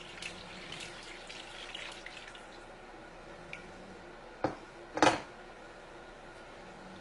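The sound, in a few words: pouring boiling water into rice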